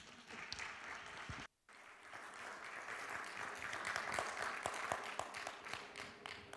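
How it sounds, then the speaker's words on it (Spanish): An audience welcomes a speaker, Dr. Adela Herrera, with a long round of faint clapping that is briefly cut by a short dropout, then swells with sharper individual claps. "Recibamos con un gran aplauso a la doctora Adela Herrera"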